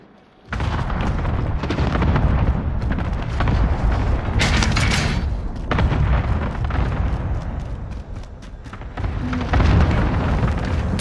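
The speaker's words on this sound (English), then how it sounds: "Cluster strike is active." Cluster strike explosions in Call of Duty: Modern Warfare, a dense barrage of loud, booming blasts rolling almost continuously, with sharp bursts and crackling debris layered over heavy rumble.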